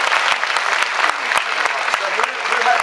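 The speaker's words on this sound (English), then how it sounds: "Can we give a round of applause for the question anyway?" Business event audience giving a round of applause, a loud continuous burst of many hands with a few sharper individual claps standing out, with a voice faintly heard underneath.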